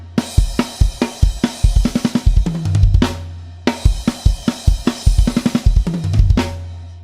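A drum kit plays a busy last-line fill from a song, a pattern of rapid kick, snare and tom hits with crashing cymbals, heard twice in loud, close, tightly grouped bursts without any talking.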